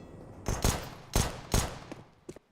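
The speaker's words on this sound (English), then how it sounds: "Pot shots from the P250." P250 pistol fired in a Counter-Strike match at a professional esports event, three sharp separate shots followed by two fainter ones, spaced irregularly over a couple of seconds.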